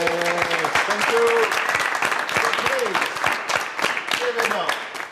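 Audience applause fills a studio show closing with guests including a footballer, steady clapping running throughout, with voices and cheers over it.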